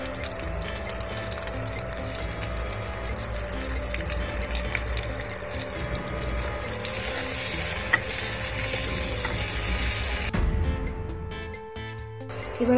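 Onions and capsicum stir-fried in a pan for capsicum chicken masala, a steady loud sizzle with scraping stirs throughout, ending in a few sharp clatters near the close.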